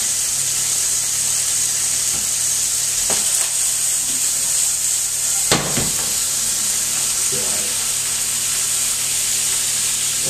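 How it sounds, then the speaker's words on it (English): Stock, flour and tomatoes for a steak pie sauce come to the boil in a pot, giving a steady bubbling hiss that runs throughout, with a few soft clinks and knocks. "We're going to bring it up to the boil and simmer and skim."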